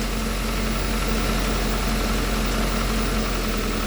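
A 2023 Hyundai Sonata Hybrid's gasoline engine running at idle, a steady low hum with faint vibration that holds constant throughout, with no talking.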